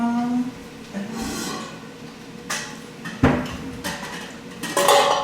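Pots, pans and dishes clank and clatter nearby in a kitchen while making lasagne, in irregular bursts, with scraping and knocking of metal and crockery throughout.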